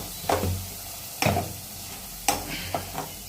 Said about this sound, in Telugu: ఇంత కలుపుకోవాలి బాగా